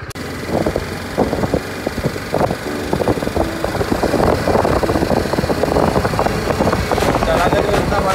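A newly bought motorcycle idles steadily close by, its engine note rumbling throughout with a faint fan-like whir, while a voice talks over it.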